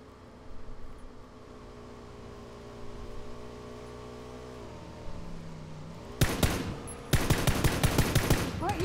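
In PUBG, a steady engine hum gives way to rapid bursts of gunfire near the end: two fast automatic volleys, loud and close, with a vehicle droning underneath.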